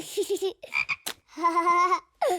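Cartoon frog croaking in a children's animated show, several short rhythmic croaks up front followed by longer sung, bouncy croaking notes, close and clear with no talk.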